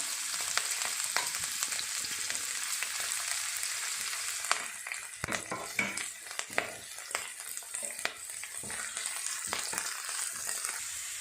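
Green beans stir-frying in a hot pan for a rice noodle dish, a steady close sizzle with scattered clicks and scrapes of stirring through the second half.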